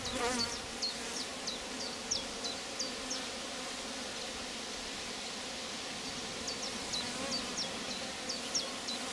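Honeybees buzz steadily around an open beehive, a dense close hum with a few individual bees zipping past, and no talking.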